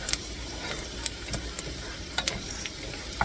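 Sliced potatoes cooking in a pan for scalloped potatoes, a faint soft sizzle with scattered light ticks and clicks, quiet and close, with no talking.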